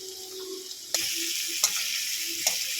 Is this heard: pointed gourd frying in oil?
yes